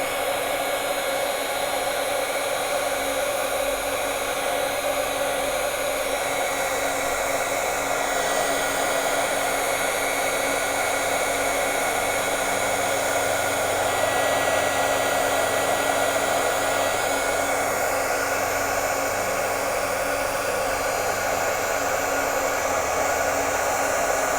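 An embossing heat tool blows a steady, loud whooshing roar without pause while melting embossing powder on a coloring page, with no voices or other sounds over it.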